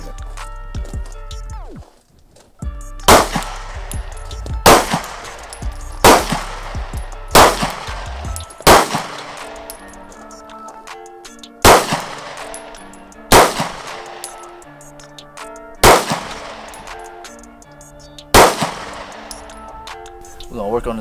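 Pistol gunshots from a Springfield Hellcat and a Sig P365 at an outdoor shooting session: loud, sharp single reports spaced a couple of seconds apart, each ringing briefly.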